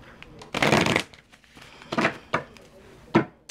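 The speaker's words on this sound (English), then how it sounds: "We'll give these a little shuffle too." Tarot cards being shuffled by hand in short riffling bursts, one long burst then two brief ones, close and clear with no talking.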